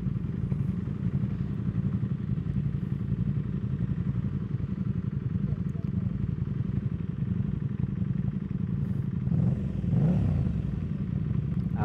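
Motorcycles, one of them a Kawasaki, ride together in a steady loud rumble of engine noise on an evening outing among Tokyo riders, with a brief clatter and thump near the end.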